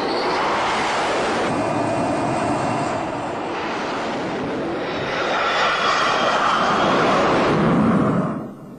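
A MiG-29K naval fighter jet engine roars, a loud sustained broadband jet rumble and whine that swells and holds for several seconds, with no talk.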